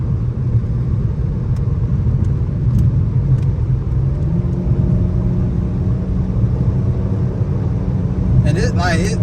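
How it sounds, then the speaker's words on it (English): Dodge Challenger SXT with a mid muffler delete drones steadily while driving, a loud, continuous low exhaust rumble from inside the car that holds throughout, with a brief higher sound near the end. "get a mid muffler delete on my car because I wanted some more sound, and it was worth every penny. It sounds great."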